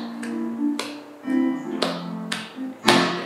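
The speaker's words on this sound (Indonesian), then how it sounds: "Sambil tepuk tangan ya." Children's hand claps keep time with a sung church worship song at an online kids' service, sharp regular claps cutting through the tune.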